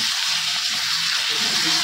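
Curry gravy sizzles steadily while being reduced in a wok, a close, even hiss with faint bubbling beneath.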